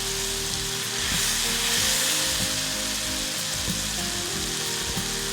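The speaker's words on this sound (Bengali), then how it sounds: "কাসুন্দিটা তেলে কতক্ষণ আগে ভেজে এটার যে একটা কাঁচা গন্ধ এটা দূর করার জন্য একটু রান্না হতে দিব" Kasundi mustard sauce fries in hot oil for a homemade pickle, a continuous close sizzle with soft crackles and occasional stirring scrapes, with no speech.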